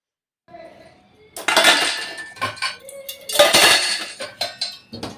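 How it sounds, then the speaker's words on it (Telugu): Dishes and cutlery clatter and clink in a sink with running water, a steady stream of close, busy kitchen washing sounds. "ఈ గిన్నెల్ని నీట్గా వాష్ చేసుకొని పెట్టేసుకుంటే చాలా నీట్గా ఉంటుంది"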